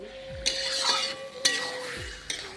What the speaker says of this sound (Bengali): চিকেন দেওয়ার পর মাংসটা একটু নাড়তে হবে